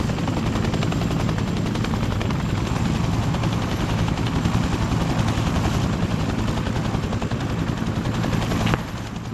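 A video game helicopter thrums loudly and continuously close by, its rotor chop steady throughout before briefly dipping near the end, with no talk over it.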